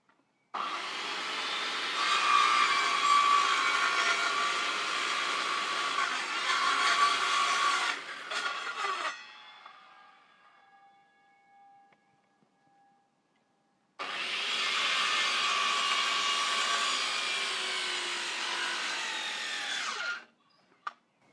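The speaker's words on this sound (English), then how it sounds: "I'm just going to use this to slice, basically just slice through the plank" Power saw slicing through a wooden pallet plank, a loud steady whining roar up close for about eight seconds, winding down into a fading ring, then a second equally loud cut after a pause before stopping abruptly.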